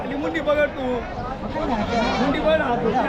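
Goats and sheep bleat over one another at a large livestock market in Chakan, Maharashtra, a dense, continuous chorus of nearby and overlapping calls.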